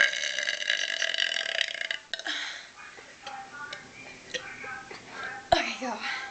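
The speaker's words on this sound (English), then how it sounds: "girls burping contest, go!" Girls in a burping contest let out a run of croaky burps, the first long and loud, then shorter gulping belches and faint clicks, with whispering and giggly voices in between.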